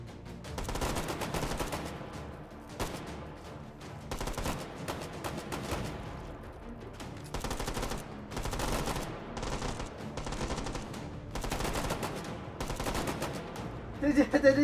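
Rapid gunfire bursts from the VR shooter game H3VR, repeated volleys of automatic shots in clusters with short gaps between them, moderately loud and continuous across the stretch.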